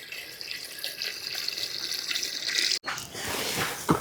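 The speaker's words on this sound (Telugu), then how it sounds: "కోడిగుడ్డు మునిగే వరకు వాటర్ పోసుకొని పొయ్యి మీద పెట్టుకుందామండి" Water poured from close by into a clay pot holding eggs for egg curry, a steady splashing stream that stops for a moment, then resumes with gurgling and a final splash.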